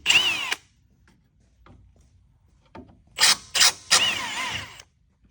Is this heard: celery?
no